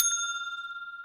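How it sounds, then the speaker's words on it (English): Single bright bell ding rung as a title-cue sound effect, a clean struck tone that rings out and slowly decays with a light wobble over about one second, heard alone. "every time they say the name of the movie, a bell rings"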